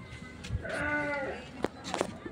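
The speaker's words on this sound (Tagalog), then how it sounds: "Uy, may kambing." A goat bleats at an eco park in Meycauayan, Bulacan: one drawn-out, wavering bleat at moderate distance, with people chatting nearby before and after it.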